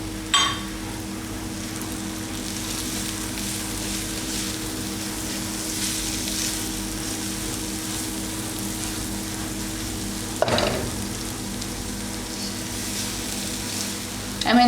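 A masala mix with aubergine and potatoes fries in a wok with a steady, hissing sizzle throughout, broken by a couple of sharp clatters, probably a utensil against the pan.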